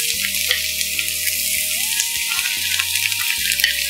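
Grated carrot fries in hot oil with golden cashews for instant rava idli, a steady bright sizzle carrying on beneath a louder musical backing track.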